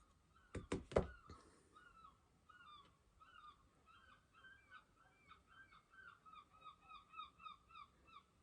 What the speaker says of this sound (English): you hear that bird? I had to stop and listen, then that bird was just kind of making a noise.